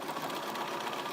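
A Bernina 475 QE sewing machine runs a straight stitch as a brief, steady mechanical whir with fast, even needle rhythm. The sound is close and moderately quiet.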